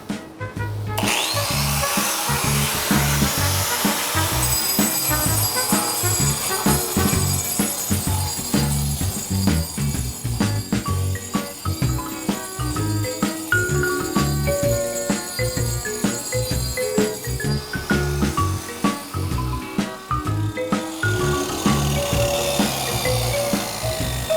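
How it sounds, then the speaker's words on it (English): A power grinder working ridges off a wall during an open-concept kitchen renovation, a loud, continuous abrasive roar with rattling and shifting pitch that runs almost unbroken from start to finish, close to the listener. "We don't want to have to sand the ridge out, so we grind it out."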